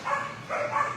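Dogs at an animal shelter bark and yip in two loud, close bursts, one right after the other, with a whining edge.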